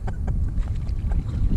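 Strong gusting wind on Huntington Lake buffets the microphone from a kayak in a constant low roar, with faint water sounds and light knocks mixed in.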